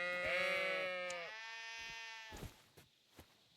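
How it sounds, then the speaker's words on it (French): Sheep in the video game Kingdom Come Deliverance 2 bleat loudly and close by, one long wavering call fading out, followed by a few soft thuds. "Ah bah ils sont là les moutons"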